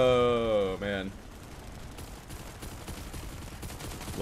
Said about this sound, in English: A little burst fire action.